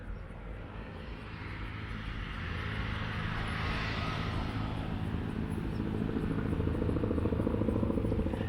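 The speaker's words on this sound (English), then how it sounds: "You can hear a helicopter in the background" A helicopter passes overhead, its rotor and engine droning as a steady distant rumble that grows slowly louder and nearer, with no voices over it.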